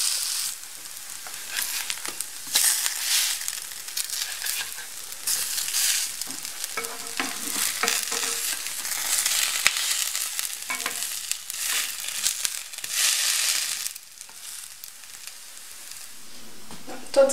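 Pancakes fry in a pan with a steady, close hiss and crackling sizzle that carries on throughout, swelling and easing slightly.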